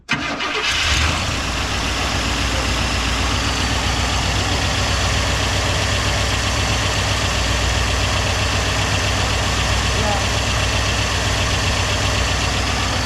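A big 429 V8 in a General Lee car fires up and settles into a loud, steady idle with a deep rumble, close by and running continuously without any voices.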